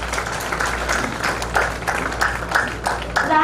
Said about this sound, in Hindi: बच्चों के मोटिवेशन के लिए आप तालियां बजाते रहिए प्लीज।